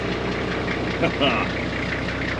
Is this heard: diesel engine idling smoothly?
yes